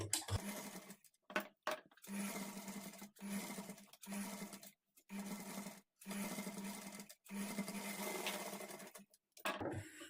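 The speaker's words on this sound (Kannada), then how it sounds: "ಈ ಥ್ರೆಡ್ ಪೈಪಿಂಗ್ ಪಕ್ಕದಲ್ಲೇ ಇನ್ನೊಂದು ಟಾಪ್ ಸ್ಟಿಚ್ ಹಾಕ್ಕೊಳ್ಳಿ" An electric sewing machine top-stitching alongside thread piping on fabric, a steady close whirring hum in repeated runs of a second or two, separated by brief stops.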